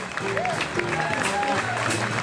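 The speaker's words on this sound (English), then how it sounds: "How about a nice round of applause for my band here?" Audience applauding a live band at a Las Vegas show, a steady wash of clapping with some crowd noise, while someone talks over it and music tones carry on underneath.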